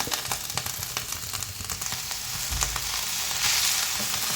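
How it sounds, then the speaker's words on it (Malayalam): Drumstick leaves and grated coconut stir-fried in a pan over a low flame for a Kerala-style thoran, a steady soft sizzle with light scraping stirs running throughout, close and alone without any voices. "ഈ സമയത്ത് നമ്മൾ ലോ ഫ്ലെയിമിൽ വെച്ചാണ് ഇത് ഇളക്കിക്കൊണ്ടിരിക്കുന്നത്"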